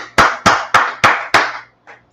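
Five loud, sharp hand claps at an even pace, then a sixth quieter clap after a short gap, in a reverberant room.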